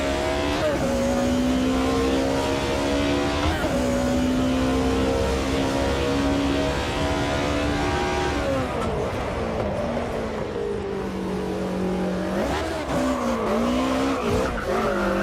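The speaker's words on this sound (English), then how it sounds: "That's a 330 horsepower slide." A 330-horsepower race car on soft slick tyres slides in the Automobilista 2 racing game, its tyres squealing over a loud, steady engine drone that shifts in pitch as the slide goes on.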